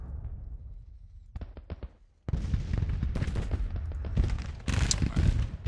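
Musket volleys from American Civil War troops in a strategy game, a few sharp isolated cracks followed by sustained rolling rifle fire and booms, dense and loud, with a heavier burst near the end.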